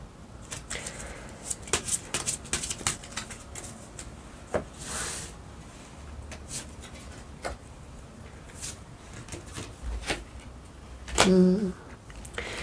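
Tarot cards are shuffled and drawn by hand in quiet, a run of soft rapid riffling and slapping card sounds with scattered taps and a brief clatter near the end.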